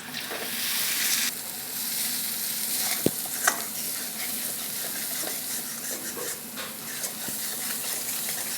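Onions cooking down with ground chilli, turmeric, garam masala and salt in a pan for prawn malaikari, making a steady close sizzle with occasional spatula scrapes and one sharp knock near the middle.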